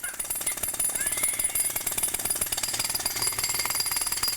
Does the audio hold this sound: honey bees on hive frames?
no